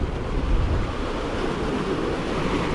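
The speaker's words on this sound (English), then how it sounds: "the swells are about 4 or 5 foot high, and it's just no good." Ocean swells about four to five feet high break against a rocky shore, giving a steady, loud broadband wash with low rumble and some wind noise, no voices.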